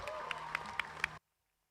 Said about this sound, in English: please give a big round of applause to Lancashire Swimmer of the Year 2023